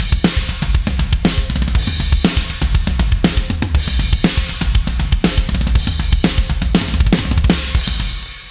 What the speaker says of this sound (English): It's just a regular acoustic kit rather than an electronic one.